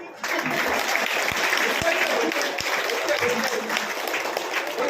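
A seated audience at a religious festival gathering welcomes a guest with sustained, steady clapping that fills the room, with a few sharp louder claps standing out.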